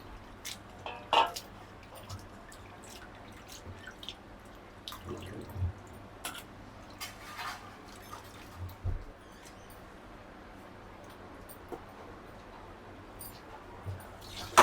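Faint water sloshing and light splashes as prawns are washed in a bowl, with occasional soft knocks against the sides, fairly quiet and close.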